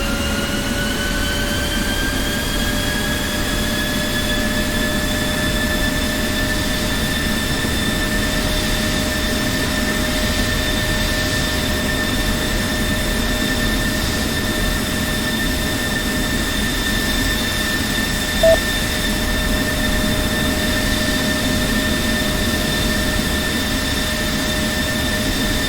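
Jet engine in the DCS flight simulator spooling up on start, a steady loud whine with rising tones holding over a constant roar, alone without talk.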